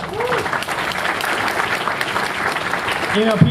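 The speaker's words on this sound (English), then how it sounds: "Round of applause for these guys." An audience breaks into applause, a full, even spread of many hands clapping with some crowd noise and a few brief voices rising near the end.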